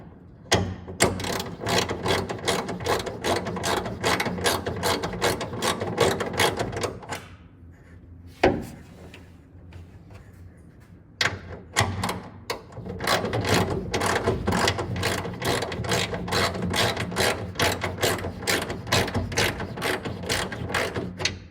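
A ratchet spins bolts into a 1923 Ford T-bucket hot rod in long runs of rapid, even clicks, pausing briefly around the middle before resuming at close range with no talking.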